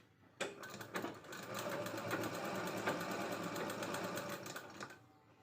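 A sewing machine runs steadily for about five seconds, stitching down a pocket made from leftover blouse border fabric. The whir is close and continuous, with a sharp start, and nobody speaks over it.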